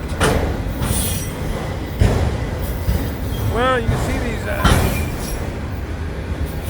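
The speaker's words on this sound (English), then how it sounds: "hitches dropping as they go through this crossing. That's what's making this noise" Loaded freight cars of the Florida East Coast rock train roll through a grade crossing, their hitches dropping and rattling in steady irregular clunks under continuous wheel rumble and a brief high wheel squeal, with someone talking nearby.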